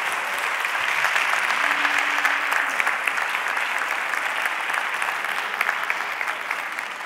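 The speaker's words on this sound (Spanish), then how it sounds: "Un aplauso para ellos." An audience applauds the speakers at a talk, a dense, even wash of many hands clapping that holds steady at moderate loudness for several seconds without pause.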